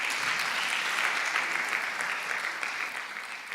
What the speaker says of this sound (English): Let's clap for Anne-Sophie again.